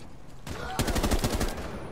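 A quick burst of automatic gunfire in Rainbow Six Siege, about eight sharp rapid shots in a row, loud and close after a brief lead-in.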